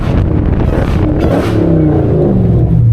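Dodge Hellcat engine revving hard while sliding in the snow, a loud, close, continuous roar that swells and dips as the throttle rises and falls, with no talk over it.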